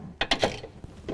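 A hand ratchet tightens the bolts of a rear strut bar on a car, giving a few quick, close metallic clicks in a short burst, followed by a fainter single click.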